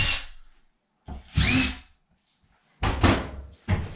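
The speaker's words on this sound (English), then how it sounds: "And then I take my drill bit and just double check that that's where the studs are." Power drill with a bit boring into a laundry room wall to locate studs, three or four short, loud whirring bursts separated by silent gaps.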